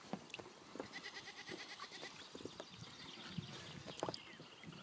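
Sheep bleat repeatedly at a middle distance near a lake shore, several calls spread through the stretch over a steady outdoor background, with no talking.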